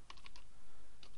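Quick keystrokes on a computer keyboard while entering a search, a short burst of four close, crisp taps, a pause, then two more taps, alone with no voice.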